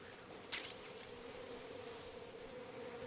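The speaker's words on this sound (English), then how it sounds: "Bees." Bees buzzing in the video game Metal Gear Delta, a faint steady insect drone holding throughout with a brief sharper sweep early on, no talk.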